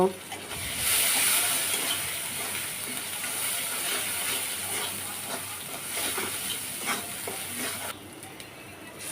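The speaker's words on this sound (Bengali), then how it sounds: "আদা পেস্ট দিয়ে দিচ্ছি দিয়ে দিচ্ছি রসুন পেস্ট এবার মশলাটাকে কষিয়ে নেব" Spice paste of ground cumin, ginger paste and garlic paste sizzles in hot oil in a pan while being stirred: a steady close frying hiss with scraping stirs throughout, easing slightly toward the end.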